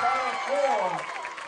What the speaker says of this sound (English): Listen to that crowd now.